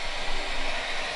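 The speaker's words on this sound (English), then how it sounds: "All we have is a blow dryer." A blow dryer blasts a steady, loud, close airflow roar while warming the engine block of a shifter kart on ice, with no breaks and no talk.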